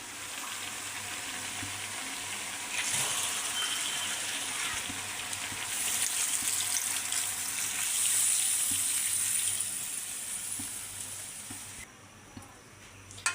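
Broth poured into a simmering fish and cauliflower curry, a steady close frying sizzle and watery gushing that swells midway and then drops off near the end.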